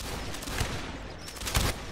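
Muffled volleys of musket fire in a Civil War video game battle, several scattered shots and crackling bursts, moderately distant and fairly faint.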